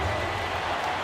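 An arena crowd in NBA 2K18 cheers and applauds in a dense, loud roar of noise that fills the short moment without a break.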